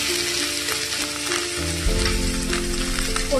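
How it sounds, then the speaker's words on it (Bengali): Cumin seeds and green chillies sizzle in hot oil in a wok, giving a close, continuous crackling fry with small spatters and no voices. "এবার কড়াইতে তেলের মধ্যে জিরে কাঁচা লঙ্কা ফোড়ন দিয়েছি"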